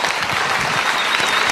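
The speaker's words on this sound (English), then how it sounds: "Everyone, a round of applause for Karl Grossman" Audience applause at a film summit screening and panel in the Hamptons, dense steady clapping from a full room, loud and close, with no talk over it.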